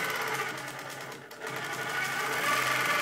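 An Innova longarm quilting machine stitching continuously, a steady mechanical whirring hum with a brief dip in the middle, close and alone.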